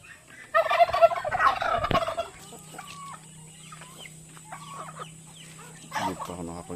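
A turkey perched on a house roof lets out a loud rattling gobble, followed by quieter clucks and fowl calls in an outdoor yard.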